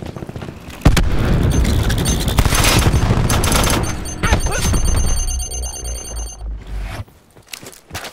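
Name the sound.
cluster grenade exploding in video game Call of Duty Black Ops 4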